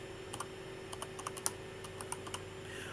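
Typing on a computer keyboard, with a sparse run of quiet, separate key clicks at an irregular rhythm, several of them presses of the backspace key, close by against a faint electrical hum.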